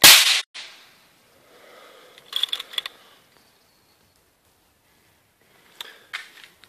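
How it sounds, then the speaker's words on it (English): Thirty-two pyrotechnic cues fired at once by a wireless firing system, one sharp, loud crack at the very start, then quiet with a few faint clicks and rattles afterward. "All 32 Qs have been fired simultaneously."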